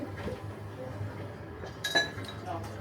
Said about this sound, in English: And then pour that into your glass for me.